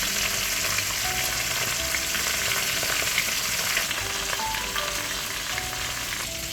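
Rohu fish pieces coated in turmeric fry in hot oil, giving a loud, steady sizzle with a crackling hiss throughout and no pauses, sounding close by. Nobody speaks.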